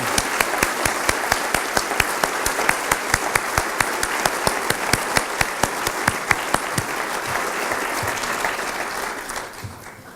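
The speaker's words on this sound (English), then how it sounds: "join me in clapping for them." A gala audience breaks into sustained applause, dense clapping from many hands with a few sharp, rhythmic claps standing out, holding steady for several seconds before tapering off near the end.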